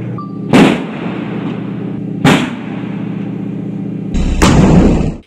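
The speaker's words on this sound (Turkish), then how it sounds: "101 pare top atışı" Three heavy cannon blasts of a 101-gun salute fire at spaced intervals, the last one longer and rolling, over a steady low rumble in the background.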